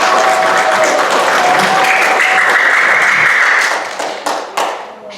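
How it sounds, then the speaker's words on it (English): Audience at a camp gathering breaks into a round of applause, dense steady clapping that holds loud for several seconds and then thins out into a few scattered final claps. "Let's give a round of applause for Xiang."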